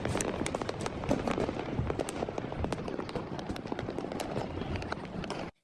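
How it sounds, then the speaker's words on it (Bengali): New Year's midnight fireworks seen from a rooftop produce a dense run of sharp pops and crackling bangs, some near and some distant, going on continuously with no talk. "12টা 1 মিনিট আমরা চলে গেলাম ছাদে আতশবাজি দেখতে"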